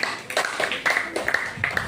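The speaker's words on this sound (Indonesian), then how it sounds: "Tepuk tangan untuk kelompok ini" A classroom of students claps for a group in short rhythmic bursts, a few sharp claps repeating in a steady pattern at moderate volume in a small room.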